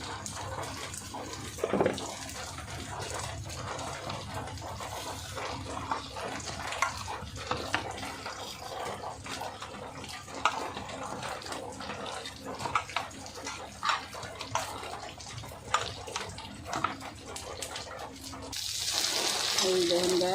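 Heavy rain falls steadily outside at night near a garden, a dense broadband wash with scattered louder drops and splashes, loud and continuous throughout.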